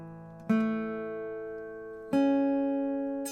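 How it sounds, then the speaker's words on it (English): Two guitar chords strummed one after the other, each ringing out clearly and slowly fading, close and alone. "Let's check if you have all the strings sounding beautiful."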